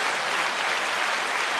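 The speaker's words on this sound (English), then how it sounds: "9-second applause to BK." Steady, dense applause fills the whole short stretch, an even wash of clapping at constant loudness with no voices over it.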